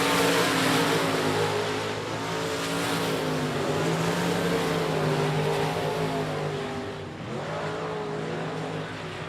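Dirt trucks racing at I-37 Speedway in Texas, a dense, continuous roar of several engines revving and droning together, with slight rises and falls in pitch as they pass.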